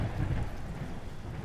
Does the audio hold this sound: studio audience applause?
no